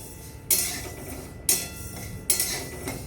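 Cumin and black peppercorns dry-roast in a pan, marked by three distinct metallic clinks of a utensil against the pan spaced about a second apart, close up over a faint quiet background, with no talking.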